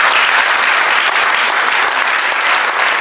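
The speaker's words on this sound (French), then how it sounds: "on a quand même oublié d'applaudir Dylan qui a aussi trouvé un emploi." An audience at a general assembly claps loudly and steadily throughout, a dense, continuous burst of applause from a full room with no gaps or voices standing out.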